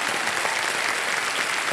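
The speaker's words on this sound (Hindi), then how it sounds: "एक बार फिर जोरदार तालियां बजाएं" Dense, steady studio audience applause on the set of a televised Hindi quiz show, loud and continuous throughout with no voices on top.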